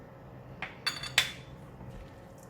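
Fried yee mee noodles tossed in a pan after the bok choy and garlic go in: a few sharp metallic clinks and scrapes of utensil against pan, close and brief, over quiet kitchen background.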